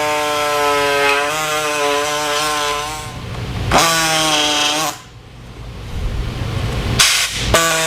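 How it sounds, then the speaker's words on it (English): A power body saw trims a G2 Baja bumper near the intercooler, running as a loud, steady whine with pitch dips as the blade bites, briefly stopping near the end before restarting. "take the body saw and start trimming away"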